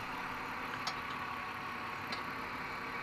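A car engine idles steadily while propane is fed in to check a lean condition, a quiet even hum with a couple of faint ticks.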